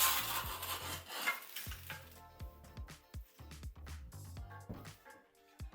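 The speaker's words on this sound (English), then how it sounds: "just a few passes with the knife until we're through" A knife cutting through insulation batts in a light gauge steel frame, heard as a broadband rasp of friction at first, then a run of short scraping strokes and small knocks, close by with no talk.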